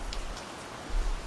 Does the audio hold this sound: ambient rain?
yes